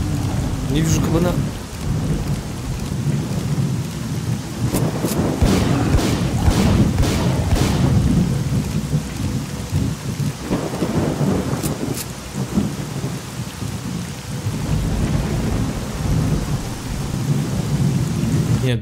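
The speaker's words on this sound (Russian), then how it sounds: "Нет, дождь вообще какой-то очень громкий." Heavy rain pours steadily while deep thunder rumbles and booms repeatedly, loud and continuous throughout, in the video game S.T.A.L.K.E.R.: Call of Pripyat.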